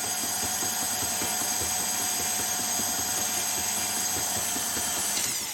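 Stand mixer beating butter and sugar for chocolate chip cookie dough at a higher speed, a loud continuous motor drone with a rhythmic pulsing churn, steady and close with no talking.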